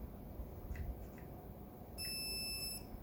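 A Perun V2 Hybrid airsoft unit gives an electronic beep when powered on: a single sharp high tone lasting under a second, clear and close over faint background hiss, after softer clicks of handling.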